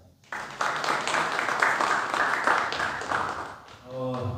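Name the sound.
audience applause for the lecturer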